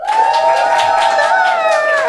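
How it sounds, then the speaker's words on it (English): Theatre audience cheering at a live comedy show, a loud, sustained wave of voices with whoops and shouts rising together, close and full for the whole moment. "Give us a cheer for tune."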